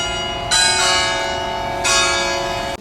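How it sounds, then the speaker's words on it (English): Church bells in Spain or Portugal ring with a rich, sustained tone, swelling in two loud strikes that hang and resonate between them, heard plainly without any talking. "there's a church here with the bells ringing clearly"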